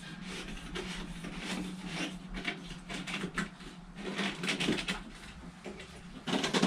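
Plastic fittings on a Fleck 5810 XTR2 water softener are turned by hand, giving a close, continuous series of rubbing, ratcheting scrapes and creaks of plastic threads over a gasket.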